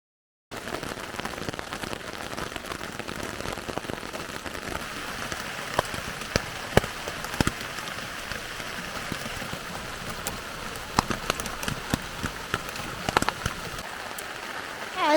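Rain falls steadily on a tent at night during a spring solo backpacking trip, a dense, even patter with sharper individual drops tapping close by on the fabric throughout.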